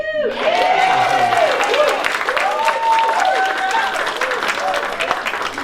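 Luncheon audience of a Republican women's group applauding steadily for several seconds, a dense wash of many hands with a few voices calling out over it.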